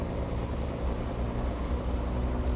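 A Caterpillar 3406 truck engine in American Truck Simulator gives a steady, dense low drone that holds constant throughout, loud and close with no talking.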